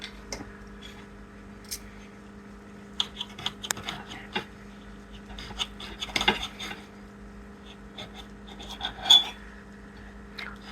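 A knife cuts into a grilled coffee-encrusted ribeye steak on a plate, giving quiet scattered clinks and scrapes of cutlery against the dish over a low steady background hum, with no one talking.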